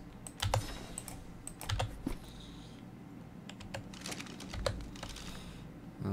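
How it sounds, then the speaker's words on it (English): Keys on a computer keyboard tapped in several quick bursts separated by pauses, close and fairly quiet, while someone plays ARK: Survival Evolved, with low background hum underneath. "I need to type in Rex."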